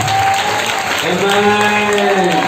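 A church congregation clapping hands together during a service, a dense continuous patter of applause with a sustained musical tone underneath.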